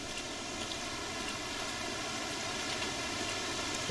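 Steady rushing water from a waterfall in the jungle survival game Green Hell, a dense continuous hiss-like roar holding even and fairly close throughout, with no pauses or distinct splashes.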